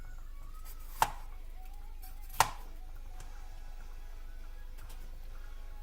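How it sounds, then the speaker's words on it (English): A knife slices thin strips of fresh bell pepper on a cutting board in a home kitchen, two sharp distinct chops standing out from a quiet background, followed by softer, fainter cuts. "Alright, so we're just going to give these a thin slice."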